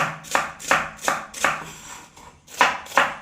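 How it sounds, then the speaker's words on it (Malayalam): Knife chopping taro stems into small pieces on a cutting board, a steady rhythm of about eight crisp close chops with a short pause before the last few. "അത് കഴിഞ്ഞ് നമ്മൾ ഇതുപോലെ ചെറിയ പീസുകളാക്കി അരിഞ്ഞെടുക്കുക"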